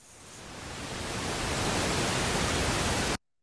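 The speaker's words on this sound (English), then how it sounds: "Correlated pink noise." Steady, broadband pink noise fades in and holds at an even hiss before cutting off abruptly to silence.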